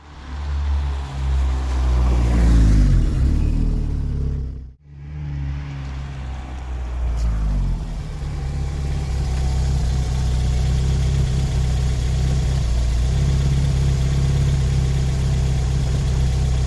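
Vauxhall Cavalier CD 2.0 16v engine running loud and close, a deep steady drone that swells, briefly drops out around the fifth second, then settles into an even humming idle with a faint whine.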